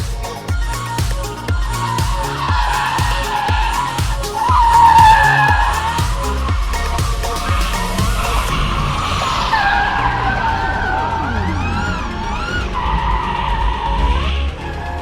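Tires squeal and skid continuously as an electric car drifts in circles in a car park in the Faroe Islands, with a low whirring motor underneath and rising and falling screeches.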